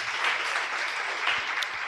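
An audience at a Christmas church gathering claps steadily, a dense, even patter of many hands at moderate volume from start to finish.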